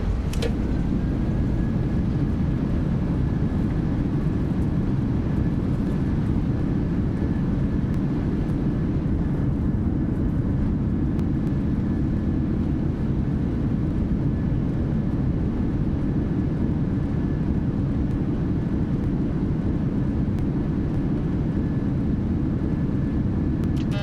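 An airliner's engines roaring under reverse thrust after touchdown in a PMDG flight simulator at Amsterdam Schiphol, a loud steady rumbling whine that holds evenly for the whole stretch.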